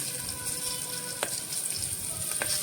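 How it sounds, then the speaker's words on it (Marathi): Spices and bay leaf frying in hot oil for tempering, a steady soft sizzle with a few small pops and crackles, faint and close. "आणि लिंब, आणि आपण घेतलेलं तमालपत्र हे पण टाकायचं उडून घ्यायचं"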